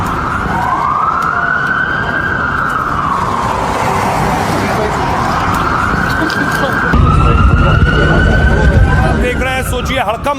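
Police and ambulance sirens sound loudly outside a hotel in Washington after a shooting, a sweeping wail that rises and falls and then shifts to a second siren tone, with street noise underneath.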